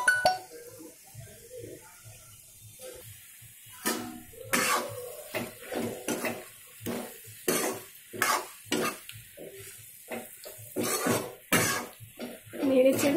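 Pui shaak (Malabar spinach) for a vegetarian chorchori is stirred in a cooking pot over medium heat. Repeated close scraping and clattering strokes come in irregular bursts over a faint sizzle.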